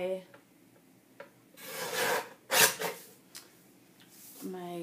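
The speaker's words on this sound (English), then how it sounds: "my guillotine cutter is a little temperamental these days." A paper guillotine cutter trims an edge off scrapbook paper, making a couple of short, quiet scraping slices, with soft voice sounds before and after.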